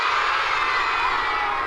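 A big crowd of third graders at a school cheers and shouts together in a loud, steady, high-pitched roar of children's voices that holds without a break.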